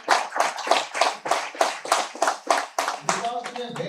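At an academic library science department event, an audience claps for a professor, a rhythmic series of roughly a dozen evenly spaced, close claps, with a voice starting to talk over the last few.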